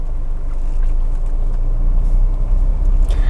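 A 2015 Nissan X-Trail 2.5 with automatic transmission on a test drive, giving a steady low rumble of engine and road noise from inside the cabin that runs unbroken throughout, with no talk.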